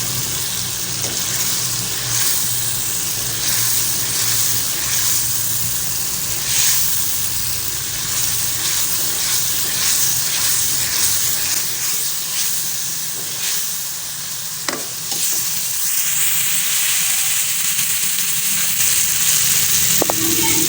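Lahori chole masala browning in a pan, giving a steady hiss and sizzle with faint steam, constant and close, with no talk.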